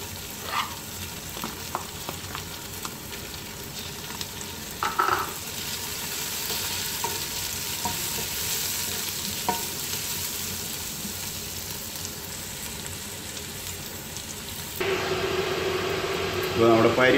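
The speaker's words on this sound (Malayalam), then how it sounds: "പിന്നെ നമ്മളിവിടെ അരിഞ്ഞു വെച്ചിരിക്കുന്ന സവാള ഇട്ട് കൊടുക്കാം." Sliced onion fries for a mutton curry, a continuous soft sizzle with a few scraping stirs and utensil taps, growing louder and brighter near the end.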